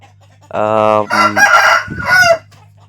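A Bhimavaram breed rooster crows once up close, a loud, drawn-out call lasting about two seconds with a rising start and a ragged, falling finish.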